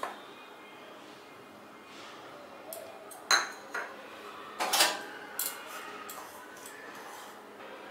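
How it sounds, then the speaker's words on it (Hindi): Semolina and flour being mixed in a mixing bowl, with a few sparse clinks and scrapes of a utensil against the bowl over a quiet background, and a faint voice at moments. "अभी एक मिक्सिंग बोल पे सूजी और मैदा को अच्छे से मिक्स कर लेंगे"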